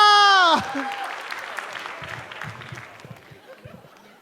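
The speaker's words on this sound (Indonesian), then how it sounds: "Beri tepuk tangan untuk Ratanca." Audience applause for comedian Ratanca at a Stand Up Comedy Indonesia show breaks out after a brief announcer's voice, a loud, dense burst that gradually fades toward the end.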